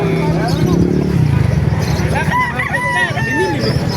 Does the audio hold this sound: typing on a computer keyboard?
no